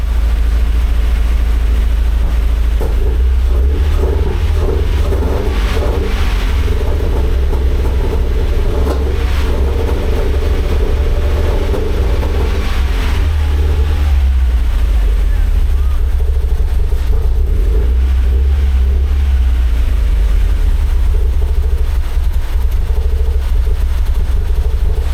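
A Mazda Miata engine idles steadily after a throttle plate adjustment, a continuous low rumble running throughout with loud broadband noise and faint talk mixed in.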